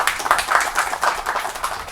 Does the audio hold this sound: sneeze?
no